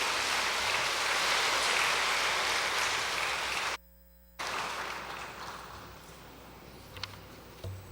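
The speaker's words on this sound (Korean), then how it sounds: "우리 환송에 박수 한번 해드리고 마치겠습니다" Congregation in a Korean church sanctuary applauding at the close of a Sunday service, a dense steady wash of clapping that cuts out abruptly, then resumes faintly and thins into scattered claps and room noise.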